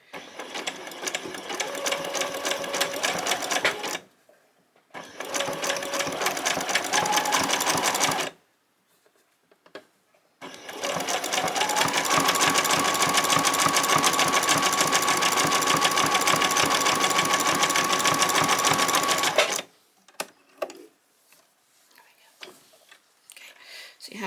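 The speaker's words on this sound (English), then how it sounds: "we're going to take them to the machine and we're going to stitch right across here" A sewing machine stitches across a long-sleeved T-shirt in three steady, close, whirring runs with short pauses between them, then stops, with only a faint soft voice in the background.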